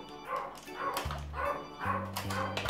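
A small dog barks and yips a few times, short high-pitched bursts heard somewhat in the background of a home, mixed with other household noise.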